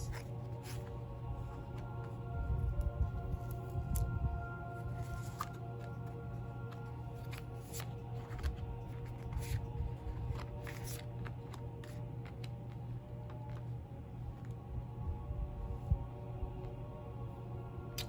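Tarot cards being shuffled by hand, a soft, faint, continuous riffling and sliding close by over a low steady hum, with no voices.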